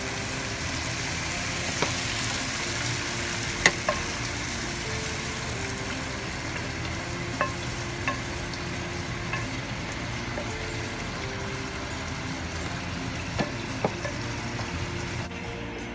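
Steady, loud sizzling of pork loin frying in a pan, with occasional stirring clicks and scrapes throughout and no talking.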